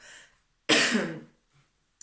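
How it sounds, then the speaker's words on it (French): One hoarse cough bursts out loud and close after a brief breathy sound, then trails off into quiet with a small clearing noise at the end. "Là par contre je tousse, c'est complètement différent."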